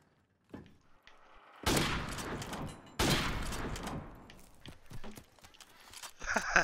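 Bursts of gunfire in a video game erupt loudly in two long rattling volleys after a quiet start, followed by scattered lighter shots and clatter.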